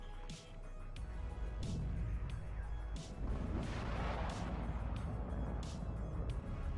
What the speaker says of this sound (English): Lots of missiles being fired at that Leopard.